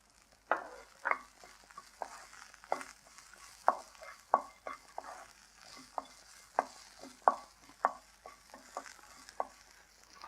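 Spinach-like greens, onion and grated coconut being stirred in a pan, with about a dozen sharp, close spatula scrapes and taps over a faint, steady sizzle, no one speaking.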